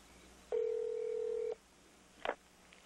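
A speakerphone sounds a single steady tone lasting about a second, followed after a pause by a short burst of dialing tones, heard close but fairly quietly with no talk.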